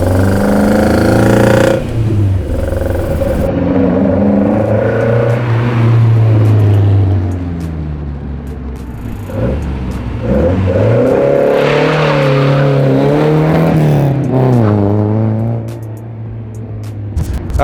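A 1970 Ford Escort RS1600 engine revs loudly and repeatedly, rising and falling in pitch as the throttle is blipped, close by and dominating the scene.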